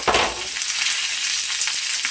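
Veal sizzling loudly in garlic and herb butter in a pan, a dense bright crackle that carries on steadily, close up with no voices.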